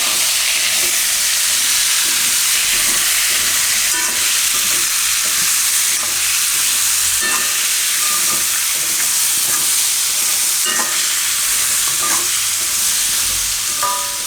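Chopped raw tomatoes with potatoes fry in a pan for a Gujarati sambharo while being stirred, giving a continuous loud sizzle broken by scraping stir strokes.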